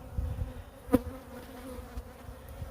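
Honey bees buzzing over a hive frame, a low, steady droning hum from many insects close by with one brief louder buzz, no voices.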